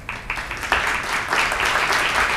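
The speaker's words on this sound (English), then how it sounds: "let's have a big round of applause for all the nominees" An audience applauds award nominees at a community theatre awards nomination announcement, with sustained, fairly loud clapping from a full room that rises sharply after a brief start and continues steadily.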